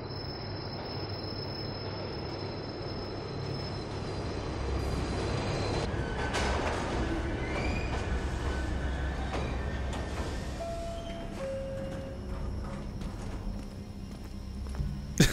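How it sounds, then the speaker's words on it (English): A train ride in The Division Underground rumbles steadily, with rhythmic clattering wheels and occasional metallic squeals over a continuous low drone, ending in a sharp knock. "we're going on a train?"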